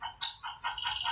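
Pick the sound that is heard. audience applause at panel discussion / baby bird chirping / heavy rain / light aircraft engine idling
baby bird chirping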